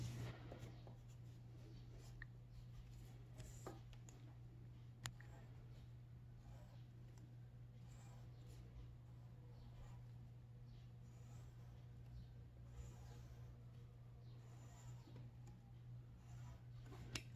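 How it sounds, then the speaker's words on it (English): A pencil draws curved stripes on paper for an op art cube design, giving a faint, steady, scratchy stroking sound over a low constant hum. "you're going to draw curved stripes inside each little wedge"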